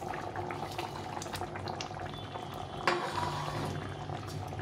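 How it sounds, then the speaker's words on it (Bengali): Fish curry liquid bubbling steadily in a pan, a soft continuous simmer with a brief louder burst of sizzle near the end, close and moderately quiet. "এভাবে ফুটে গেছে, এখন আমি মাছটা দিয়ে দেবো।"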